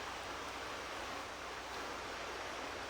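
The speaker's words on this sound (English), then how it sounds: "So here we have our waterfall into our... Oh, we got two waterfalls." Waterfall in Farming Simulator 17 on the Snettertons Farm map, a steady broadband rush of falling water that stays loud and even throughout, with no voices over it.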